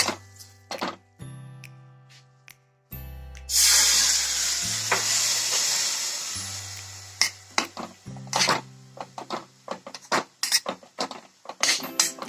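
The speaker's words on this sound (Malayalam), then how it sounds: "ഇതിലേക്കിട്ട് ഇളക്കിയെടുക്കാം." A spoon stirs Thuvara Mezhukkupuratti with curry leaves frying in a pan: a sudden burst of sizzling that fades, then sharp metallic scrapes and clinks against the pan, close and loud.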